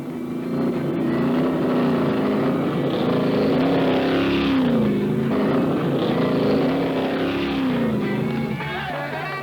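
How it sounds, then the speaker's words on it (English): NASCAR stock cars roll into the pits during a race, their engines droning loudly and continuously, with pitch rising and falling in slow sweeps and some wind buffeting mixed in. "the field follows the leading cars in for quick doses of fuel and fresh rubber"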